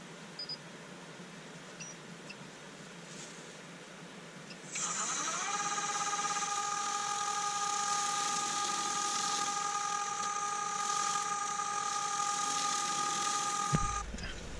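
A Nova Saturn wood lathe motor spins up and runs steadily with a high mechanical whine and faint hum while turning a thin bowl, cutting off abruptly near the end.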